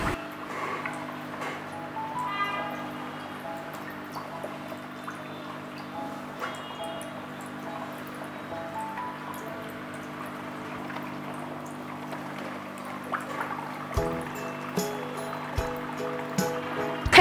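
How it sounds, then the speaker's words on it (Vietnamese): A HoMedics FS-505-EU foot spa churns its water with a continuous low motor hum and gentle bubbling, dotted with small ticks and drips throughout. "Các bong bóng sủi bọt giúp đôi chân được thư giãn nhẹ nhàng."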